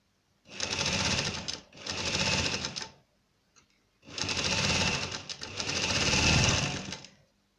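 A sewing machine stitches a simple salwar leg in four loud, steady runs of a second or two each, separated by short pauses, with no talking.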